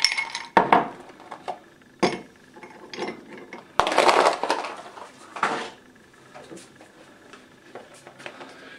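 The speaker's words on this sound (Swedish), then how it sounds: "Ni tar en mugg. Ni fyller på med iskuberna." Ice cubes or frozen coffee cubes are dropped into a mug, giving several sharp clinks and knocks in irregular bursts, loudest near the start and middle, with quieter rattles trailing off and no talk.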